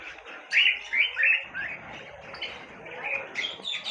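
Birds chirp and tweet inside a park aviary, with repeated bright calls from several birds at close range, some louder bursts early on and faint background murmur.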